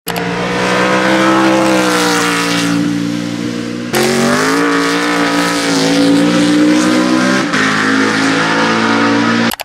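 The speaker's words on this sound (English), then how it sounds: "the Z4 uses a conventional cross-plane crank, which makes a deeper rumble." A BMW Z4 GTE race car's cross-plane V8 rumbles loudly and continuously at close range, its deep harmonic drone shifting pitch as it revs up and eases between gears.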